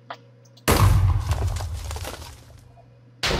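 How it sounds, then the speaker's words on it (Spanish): A C4 blast from the Minecraft More Explosives mod: a sudden loud boom with a deep rumbling tail that fades over about two seconds, then a second burst begins at the end. "por lo que podemos generar unas grandes explosiones"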